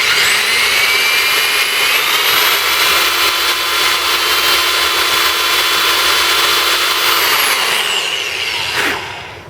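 Power drill boring a sling stud hole into an AR15 free float tube, a steady high whine with grinding bite running continuously for about nine seconds before spinning down near the end.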